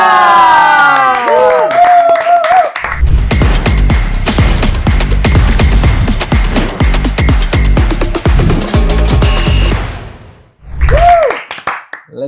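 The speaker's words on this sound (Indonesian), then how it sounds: "Tepuk tangannya sekali. Udah ngasih dari awal tadi kan." Studio audience on an Indonesian football talk show clapping and cheering, a dense burst of applause with whoops that starts after a short musical opening, fills several seconds, then stops abruptly.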